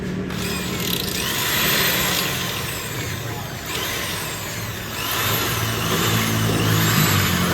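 A car engine drones steadily while driving on the road home from a workshop, swelling and easing as it revs, with constant road and wind noise throughout and no talk.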